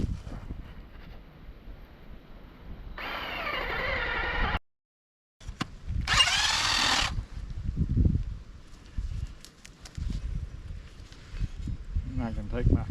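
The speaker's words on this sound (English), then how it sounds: "Again, I use a drill and an inch auger this time." A power drill with a one-inch auger bores a hole into dirt, two bursts of whirring grinding a few seconds apart with a short pause between, followed by rustling and handling noises outdoors.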